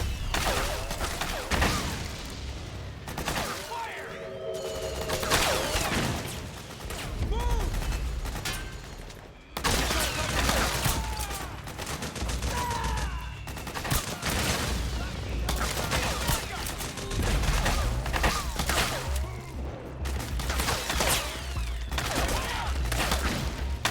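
Gunfire aimed at the player in the Metal Gear Solid 4 video game: repeated bursts of shots and fusillades, loud and close, with mechanical clanks and someone talking intermittently over the action.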